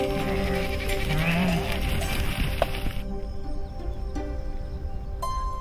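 A herd of sheep kept by nomads grazing in the Arjin nature reserve bleats in the open, several overlapping calls at moderate distance over a steady background hiss, with no talk heard.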